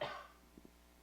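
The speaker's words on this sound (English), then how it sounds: "I don't know why all of a sudden I like have this cough." A single short, fairly soft cough from a podcast host at the start, fading quickly, with a couple of faint small clicks after it and no talking.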